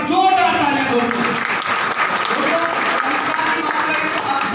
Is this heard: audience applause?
yes